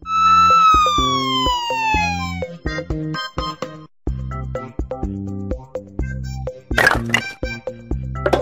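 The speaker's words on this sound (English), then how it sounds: "Police car." A toy-like police car siren from a children's vehicle puzzle app wails loudly at the start, then gives way to bouncy app music punctuated by clicks and pops.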